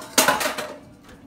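Mango chutney with carrots and pepper being mixed in a bowl: a brief cluster of three or four close utensil clinks and scrapes, then quiet.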